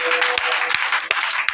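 Church congregation at a Sunday worship service applauding, a dense wash of clapping with a few distinct sharp claps standing out, close and fairly loud.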